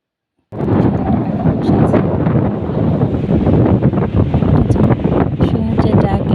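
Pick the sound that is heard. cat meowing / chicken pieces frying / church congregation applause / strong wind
strong wind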